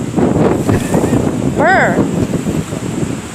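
Strong wind buffets the microphone at a nighttime police stop, a loud continuous rumble throughout, with a person speaking under the gusts.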